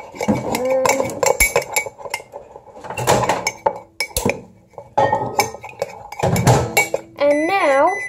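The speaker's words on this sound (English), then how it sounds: "And then you stir it." A spoon clinks and scrapes against a mug while stirring Cadbury hot chocolate, in irregular bursts of ceramic chinks, with speech over the stirring and a sung melodic voice at the end.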